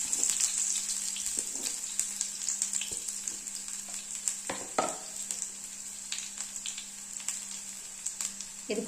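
Chopped small onions (shallots) sizzle and crackle in hot oil in a pan, with a steady frying hiss, occasional sharper pops and a brief stir midway, heard up close with no talking.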